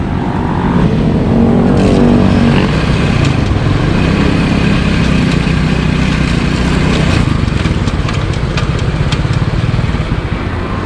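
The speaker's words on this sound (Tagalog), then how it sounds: "start na yung makina tapos ilagay mo sa 4th gear titingnan natin kung kakalas" A motorcycle engine runs steadily in 4th gear after its loose chain is refitted, a loud, close, continuous droning rumble with a dense rapid firing texture and no speech.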